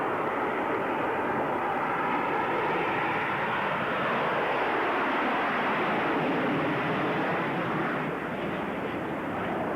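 An AV-8B Harrier jet roars continuously and loudly during a Marine Corps capability exercise at Camp Lejeune, North Carolina, in 1992, a broad, steady engine rush that fills the whole stretch with no speech.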